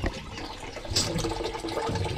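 Water pours into a cooking pot, a brief steady splashing rush, close and moderately loud.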